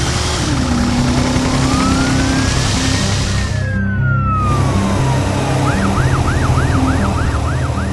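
A loud siren wails in a long rising and falling sweep, then switches to a rapid yelping pattern, over a constant engine rumble.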